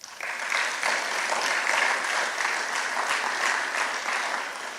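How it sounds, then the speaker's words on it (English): Steady applause from a breakfast audience at a university business scholarship event, many hands clapping in a sustained, even wash that fades slightly at the end. "Please give these people a huge round of applause."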